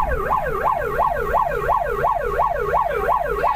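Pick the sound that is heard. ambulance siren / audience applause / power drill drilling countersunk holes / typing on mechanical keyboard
ambulance siren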